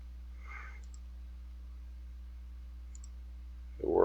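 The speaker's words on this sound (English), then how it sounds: "We'll click the second button" Two faint, quick computer mouse clicks, one near the start and one near the end, press a program button over a low steady hum in a quiet room, with a brief rustle at the very end.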